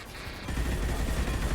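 Gunfire from mechs in the video game Mass Effect 2, a dense low rumbling burst of shots that swells and holds steady, loud and unbroken with no talking.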